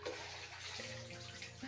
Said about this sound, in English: Oh, okay, wait, that's water.